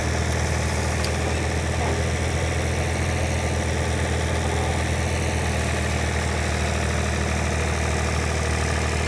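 Tractor engine pulling a landscape rake through dry leaves, a loud, steady low diesel drone with constant vibration, running evenly without change for the whole stretch.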